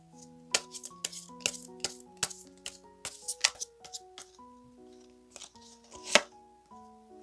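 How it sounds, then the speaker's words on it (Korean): Oracle cards being shuffled and drawn, heard as soft, repeated papery slaps and flicks at close range. A gentle tonal melody with sustained notes plays quietly underneath throughout. "마지막으로 우리 1번님을 위한 조언 카드도 한번 오라클 카드로 뽑아보도록"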